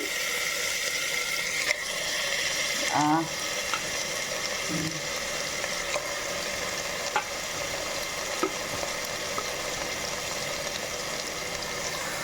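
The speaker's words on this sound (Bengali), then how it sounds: "কুকারেই আমি কষিয়ে নিচ্ছি" Marinated meat sautéing in a pressure cooker, a steady close sizzle and frying hiss with occasional clinks and scrapes of stirring throughout, no voices.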